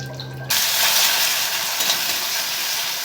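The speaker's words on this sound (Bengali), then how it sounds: "ডিমটা আগে ভেজে নিই।" An egg frying in oil in a home kitchen pan, a steady loud sizzle that bursts in suddenly after a brief quiet start and holds close and constant throughout.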